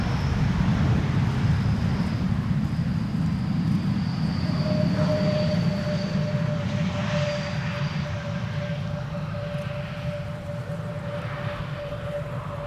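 An airliner arrives at Amsterdam Schiphol Airport, giving a steady low jet rumble with a thin sustained whine on top that eases slightly toward the end.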